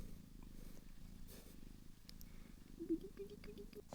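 Sleeping kittens purr steadily and softly, a continuous low rumbling pulse carried close to the microphone with a few small shifts and rustles partway through.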